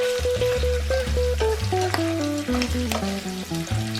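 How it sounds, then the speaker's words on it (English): Garlic, ginger, tempeh and broad bean paste stir-fried in a pan for Sichuan double cooked pork, a continuous loud sizzle with stirring scrapes, while steady musical tones play over the cooking. "Add half spoon of broad bean paste. Stir fry until the red oil comes out."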